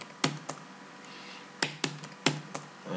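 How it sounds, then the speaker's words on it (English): Sparse keystrokes on a computer keyboard enter a password: six or seven sharp, close clicks in irregular pairs against a quiet room. "I'm typing the password."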